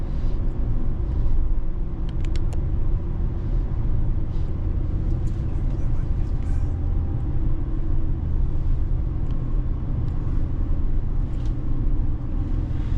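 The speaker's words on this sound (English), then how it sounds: "Nice linear torque delivery in this big, huge V8 engine." Big V8 engine of a 2023 Chevrolet Silverado ZR2 pickup pulling out of a turn, a steady loud low rumble with road noise and a few faint clicks, no talking.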